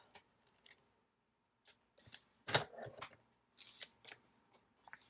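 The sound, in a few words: scissors cutting paper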